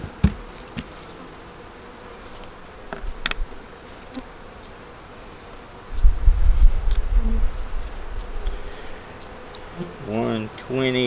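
Honey bees droning inside an open beehive, a steady low buzz with individual insects passing close by, growing denser midway, while a person talks briefly near the end.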